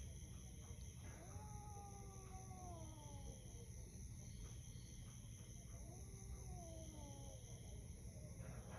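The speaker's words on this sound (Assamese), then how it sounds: "মেকুৰীয়ে কান্দি আছে মেকুৰীও কান্দিছে" A cat cries outdoors at night in a village near a cremation ground, two drawn-out wailing meows at some distance over a constant high insect drone.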